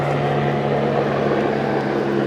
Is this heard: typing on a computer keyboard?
no